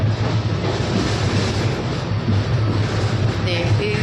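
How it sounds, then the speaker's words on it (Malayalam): A Mumbai local train rumbles past close by with a loud, steady roar and a low droning hum that fills the scene. "അവിടെ ലോക്കൽ ട്രെയിനിൻ്റെ ബഹളമാണ്"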